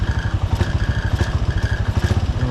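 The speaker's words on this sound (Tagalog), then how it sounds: "rev natin ng kaunti." A Honda TMX 125 Alpha motorcycle engine revved slightly, heard as a loud, close, rapid thumping beat from a single-cylinder engine that holds steady with a rattly edge and no talking.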